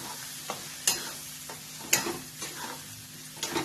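A spoon stirs a thickening veg mix tikki mixture in a pan over medium heat. Soft sizzling runs underneath, broken by several sharp, irregular scrapes and taps against the pan.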